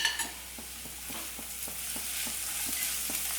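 Onion sautéed with crushed ginger and garlic in a pan for mushroom kuruma, a soft steady sizzle with regular scraping strokes of a spoon, close and fairly quiet.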